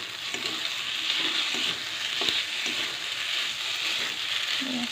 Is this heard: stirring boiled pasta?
yes